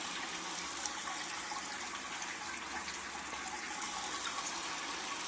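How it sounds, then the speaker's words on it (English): Hot tap water pours for sparging in a home brewing setup, a steady, even rushing flow that stays constant throughout, close and unbroken, with no voices. "Water comes out of my tap hot at about"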